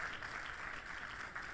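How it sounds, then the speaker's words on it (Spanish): Congregation applauding in a church service, a steady wash of clapping that stays loud and even from start to finish without pauses. "Denle un aplauso al Señor por Natividad."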